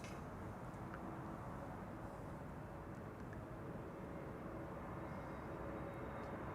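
Steady broadband jet roar from a Transavia airliner passing at Amsterdam Schiphol Airport, distant and even throughout with no talk.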